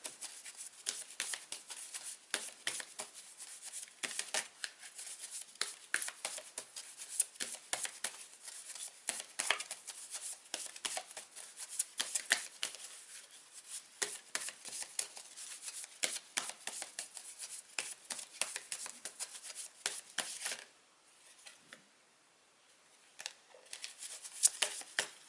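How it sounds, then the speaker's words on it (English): A tarot card deck is shuffled steadily for over twenty seconds, the cards riffling and slapping in dense, quiet flurries that pause briefly near the end before resuming. "let's shuffle this deck together"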